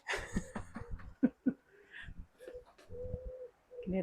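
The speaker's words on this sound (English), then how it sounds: "Can you hear the birds?" Soft, low cooing from birds, a few repeated calls close by, with gaps of quiet and some rustling between them.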